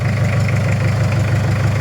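Mitsubishi L200 Cyclone pickup engine idling, an even, loud mechanical chug with a fast steady pulse and a low hum, close up and with no one talking.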